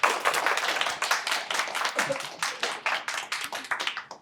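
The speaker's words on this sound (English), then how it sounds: "I'd like to give you a round of applause" Audience applause after a talk on nuclear power and clean energy, a steady burst of individual hand claps from a modest crowd lasting several seconds at moderate loudness.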